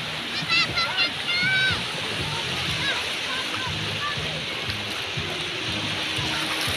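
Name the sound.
water splashing at the sea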